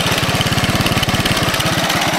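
A 1982 Honda ATC 200 three-wheeler with stock exhaust idles steadily, its small single-cylinder engine thumping in a rapid, even pulse close by, loud and alone.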